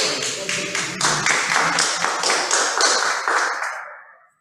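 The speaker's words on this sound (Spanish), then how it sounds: "Fuerte aplauso para el compañero." Brisk applause from a classroom of students greets a classmate, a dense burst of many hands clapping close by for about four seconds before stopping abruptly.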